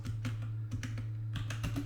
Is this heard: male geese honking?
no